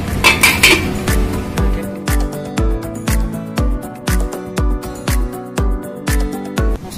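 A metal spoon stirs salt into spice masala in a pan for an ash gourd shukto, knocking against the rim in a steady series of about a dozen loud, evenly spaced clanks, with scraping between them and no talk.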